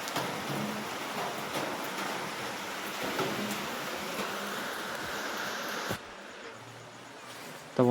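Rain falls on a rainy morning as a steady, even hiss of drops on surfaces. It stays constant throughout, dips slightly in tone near the end and ends with a brief knock.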